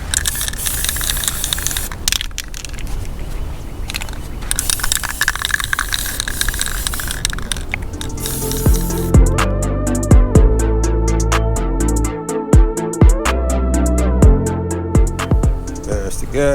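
Spray gun misting a light guide coat over primer on a Box Chevy Caprice LS body, a steady hissing spray with short on-off bursts, close and loud, trailing into sharp rattling and clicking toward the end.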